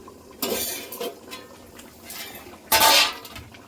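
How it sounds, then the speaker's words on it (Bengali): A lid comes off a pot of prawn, brinjal and potato curry with two sharp metallic clanks, one brief and one louder near the end, over quiet kitchen background. "এটা ঢাকনাটা খুলে দেখে নেব।"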